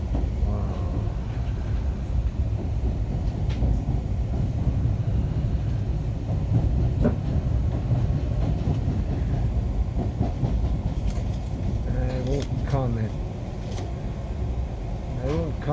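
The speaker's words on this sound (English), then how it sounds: "I'm on the train and I don't want to disturb the other passengers" Riding inside an Amtrak Acela train from Newark to New York Penn Station, a steady loud rumble and rolling clatter of wheels on rails with faint passenger voices in the background.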